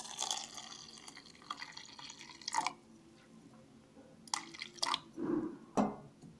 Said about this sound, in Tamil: ஸோ வந்து ஒரு ரெண்டு கிளாஸ் அளவு தண்ணி சேர்த்துக்கிறேன்